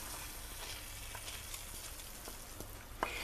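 Dried mint leaves, about a generous teaspoon, hit hot fat and sizzle steadily as they go into a pot of Turkish lentil soup, with a few faint clinks and a sharper tap near the end.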